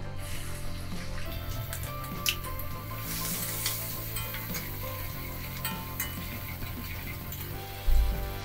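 Chopped ginger and green chillies frying in a pan with asafoetida, curry leaves and dal for a Gujarati mixed vegetable dish: a steady close sizzle with stirring scrapes and a soft thump near the end.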